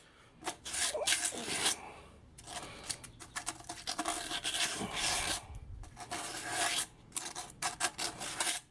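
Hand sanding scrapes old sealant and sludge off a Mopar 340 engine part, in repeated rasping strokes of uneven length, close and fairly loud, with short pauses between bursts.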